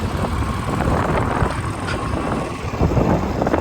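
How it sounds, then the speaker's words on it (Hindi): Cold wind blowing outdoors in the early evening, a steady broadband rush with gusty fluctuations buffeting the microphone, loud and continuous throughout with no voices. "ठंडी हवा चल रही है"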